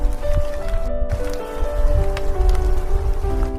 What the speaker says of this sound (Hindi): तभी धीमी धीमी बारिश भी होने लगती है